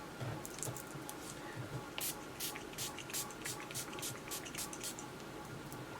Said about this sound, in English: Going to spray some of my Tatcha Luminous Setting Mist.